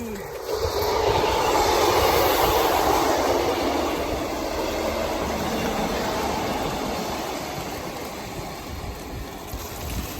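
A train rumbles past on the rails at Dawlish Warren, UK, a broad continuous roar with rapid rhythmic clatter that swells early and slowly fades.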